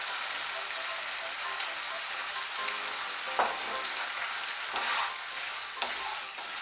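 Raw mustard oil sizzles and crackles steadily in a hot pan while cooking Bengali sojne data chorchori (drumstick curry), a dense continuous fry hiss with a few sharper spits and stirring scrapes.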